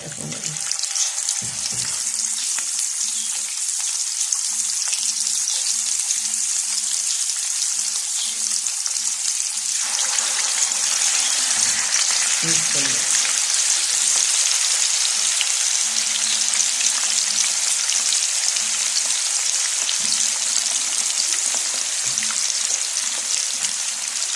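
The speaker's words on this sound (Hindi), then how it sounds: "अब हम इनको फ्राई कर लेंगे, एक साइड से कुक करेंगे" Chicken pieces for a steam roast sizzle loudly in hot oil, a dense steady frying hiss that swells after the pieces go in and holds for the rest of the stretch, with faint clinks of utensils beneath.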